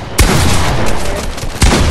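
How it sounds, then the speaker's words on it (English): Rapid gunfire in the video game Fortnite, loud and dense, with sharp bursts near the start and end over a continuous rattle of shots. "Whenever you're just shooting."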